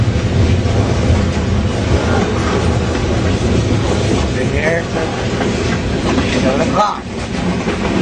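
A slow-moving train rumbles steadily with a low, continuous roll and occasional metallic squeals, loud and close, while people speak briefly over it.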